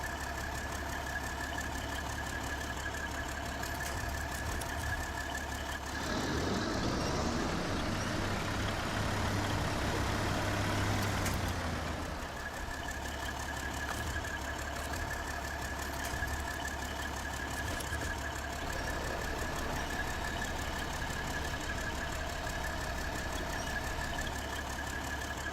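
A Kenworth truck in SnowRunner idles with a steady, low diesel rumble throughout. A brief louder swell of engine roar and rattle rises midway before settling back to the even idle.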